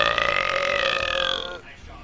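A long, loud, voiced burp right up close, rolling and croaky for about a second and a half before it cuts off into quiet.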